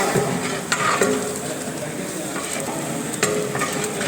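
Chicken coated in chicken masala being stirred in a frying pan, a steady loud sizzle with scraping strokes of a utensil and occasional clinks against the pan, close up and continuous.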